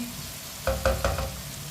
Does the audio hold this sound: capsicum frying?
yes